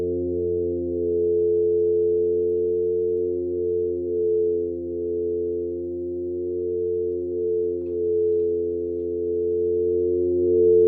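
A steady, sustained synth tone with filter resonance only, a thick, buzzy harmonic stack, holding level for several seconds with slight wavering in brightness and no other sounds.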